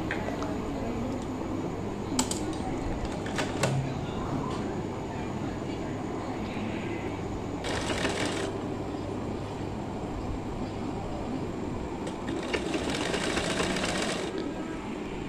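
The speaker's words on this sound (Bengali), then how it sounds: "সেলাই করে নেব।" A sewing machine stitches a long seam along folded cloth for a Jagannath turban, making a continuous fast mechanical whirr and rattle close by, with a couple of brief louder bursts of running.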